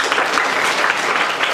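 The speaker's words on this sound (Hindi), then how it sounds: "ताली बजाइए।" Students in a high school classroom clap together, a dense, steady burst of applause filling the room with no voices above it.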